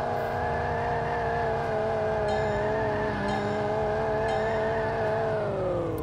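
Car engine revving steadily in a LEGO Technic Ford Mustang Shelby GT500 augmented-reality racing game, a loud continuous drone with smoothly shifting pitch, slightly dipping near the end, with no talking.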